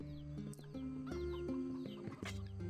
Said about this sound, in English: Yeah, they're chickens.